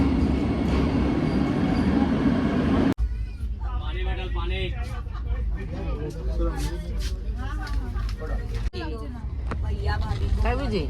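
The interior of a moving train carries a heavy low rumble and rattle throughout, loudest at the start, while people talk over it.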